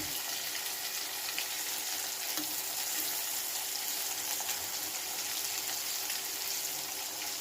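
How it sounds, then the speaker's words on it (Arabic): Zucchini fries in a pan with tomatoes and a splash of water on a home stove, giving a steady, even hiss and crackle throughout, with faint stirring underneath and no voices. "نقلب بقى الكوسة"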